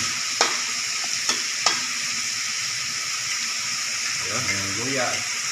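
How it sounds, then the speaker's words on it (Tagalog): Onion, tomato and garlic sautéing in a pan, a steady loud sizzle with a few sharp utensil knocks, and a voice speaking briefly near the end over the frying. "nagigisa ng sibuyas, kamatis at bawang"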